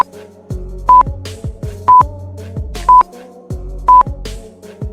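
A quiz answer countdown timer sound effect ticks steadily once per second, each tick a short electronic beep over low thumping pulses, with no talking.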